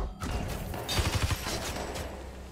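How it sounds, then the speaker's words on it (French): Stun gun in the video game Watch Dogs 2 fires a rapid rattling burst of sharp zaps and thuds, close and loud, over a dense game soundscape with no talk. "Voilà, pistolet paralysant."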